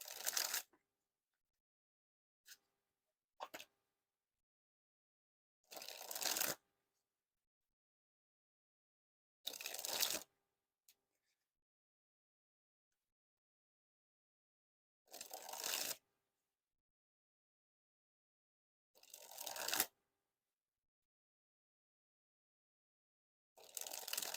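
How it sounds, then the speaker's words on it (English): Bicycle Heritage edition playing cards riffle in quick dribbles from hand to pile, six short crisp fluttering bursts separated by silence, plus a couple of faint isolated card clicks. "I'll dribble the cards."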